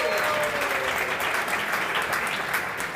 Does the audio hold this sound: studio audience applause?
yes